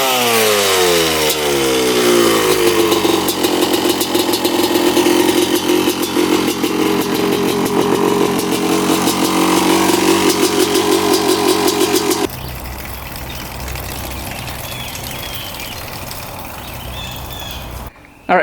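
Dirt bike engine revving hard and bogging, a loud, close, raspy drone with wavering pitch for about twelve seconds, then dropping abruptly to a rough, lower idle that chugs on before cutting off.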